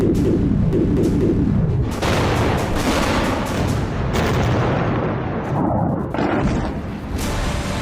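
Bombing in war news footage of attacks between Iran, the US and Israel: continuous loud, rumbling explosions and booms with crackling blasts layered densely throughout, close and heavy.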